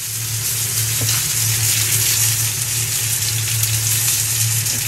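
A large fish head fries in hot oil with a steady, loud sizzling hiss that runs throughout, broad and continuous with slight crackles and no talking.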